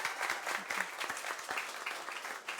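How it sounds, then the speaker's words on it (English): An audience applauds as Dr. Parmjeet Parmar, a National MP, is introduced on a political talk show, giving a steady, moderately distant round of clapping from many hands with no voices over it. "Will you please give it a big round of applause for Dr. Parmjeet Parmar, National."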